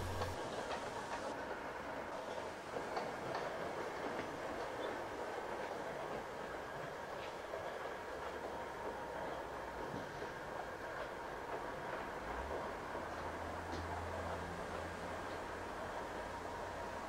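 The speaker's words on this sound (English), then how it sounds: "5531 bursts dramatically from the tunnel, shutting off steam after the steep climb from Aberllefeni." Steam locomotive 5531 bursts from a tunnel after a steep climb from Aberllefeni and shuts off steam, heard as a faint, distant, continuous rush of rolling train noise with soft rail clatter throughout.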